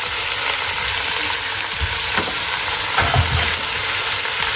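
Garlic frying in a pan for lamb colombo gives off a steady, loud hiss and sizzle, broken by a couple of low thumps and scrapes as the pan is stirred.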